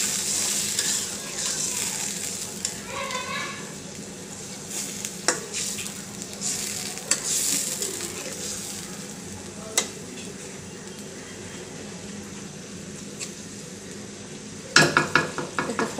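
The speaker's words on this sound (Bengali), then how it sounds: "একটু মাছটা দিয়ে দিছি তেলের উপরে" Hilsa fish frying in hot oil for a mustard hilsa curry: a low, continuous sizzle with stirring and scraping, occasional utensil clinks, and a brief burst of pan clatter near the end.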